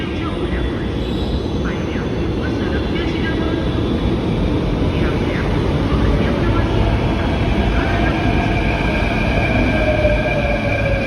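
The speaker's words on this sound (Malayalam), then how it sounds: "ട്രെയിൻ വന്നു." A Mumbai metro train arrives at a station with a loud, steady rumble and roar that holds throughout, with faint high squeals and hiss running over it.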